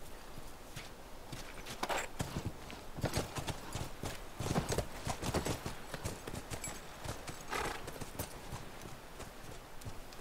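Horse hooves in the video game The Last of Us Remastered keep up a steady clip-clop rhythm of walking steps for about ten seconds, close and fairly loud, with no talking.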